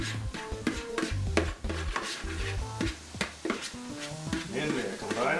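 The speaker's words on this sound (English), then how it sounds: "Give this a quick stir." A spoon stirs and scrapes a meat and vegetable filling in a hot pan over medium-high heat, with steady sizzling and repeated clanks against the pan, close and fairly loud.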